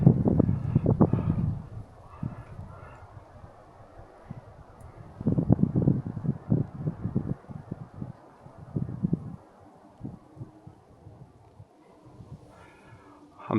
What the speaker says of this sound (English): It is so darn windy.